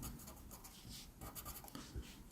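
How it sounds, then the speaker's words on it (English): Handwriting as a CSEC mathematics exam question is written out: soft, steady scratching strokes with brief pauses, quiet and close, with no talking. "Let me write the question."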